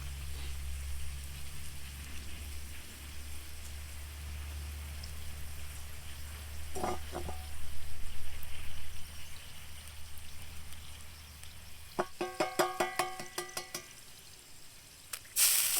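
Eggs fry in oil in a cast iron skillet over a campfire, a steady soft sizzle and crackle under low background hum, with a few sharp pops and a rapid burst of clicks near the end.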